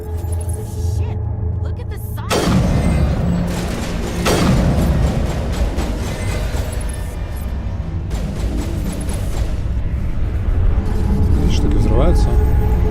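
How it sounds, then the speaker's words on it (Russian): Explosions in the video game Mass Effect, a sudden loud booming burst that sets off dense rumbling blasts and crackling debris, with further detonations repeating over a continuous heavy low roar. "Штуки взрываются."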